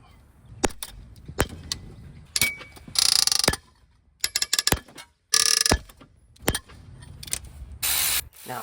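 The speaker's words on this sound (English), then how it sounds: "So let's go ahead and remove the camshaft so we can get to our cylinder head bolts." Metal clicks and ratcheting bursts from a ratchet working camshaft cap bolts on a 2016 Jeep Compass engine, with several short, loud ratcheting runs separated by quiet pauses and scattered clicks, close up.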